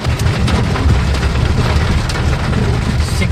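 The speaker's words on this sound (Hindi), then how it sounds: "निकले हैं जी हम लोग और बारिश होती है।" Heavy rain pours steadily outdoors, a loud, unbroken hiss of drops with a low rumble underneath and no voices.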